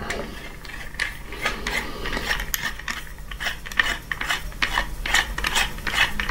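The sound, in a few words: tightening a mount's screw clamp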